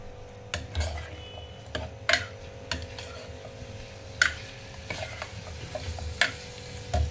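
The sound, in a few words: frying turmeric in a pan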